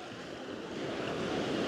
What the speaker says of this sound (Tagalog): Ang lakas nga lang talaga ng alon